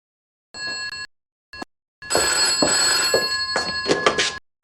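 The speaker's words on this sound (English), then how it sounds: "Wasn't expecting the phone to ring" An old-style telephone bell rings in bright, metallic bursts: a short ring, a brief blip, then a longer, louder ringing stretch, alone with no talking.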